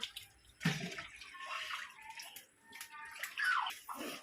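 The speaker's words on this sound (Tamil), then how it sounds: "இந்த பாத்திரத்தில் அளந்த தண்ணியை அதில் ஊற்றுறாங்க" Measured water poured from a vessel into a large biryani pot for 3 kilograms of rice, a soft, uneven splashing and trickling that swells and fades over a few seconds, fairly quiet.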